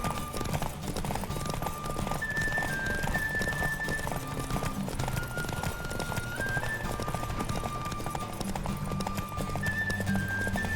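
A horse galloping in The Witcher 3: Wild Hunt during a race, with steady rapid hoofbeats and a running rumble, plus brief whinnies and game music over the top.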